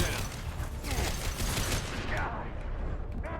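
A turret fires in the sci-fi shooter Mass Effect 2 as a dense, sustained burst of rapid gunfire with mechanical clatter, loud and continuous for most of the stretch before cutting off near the end.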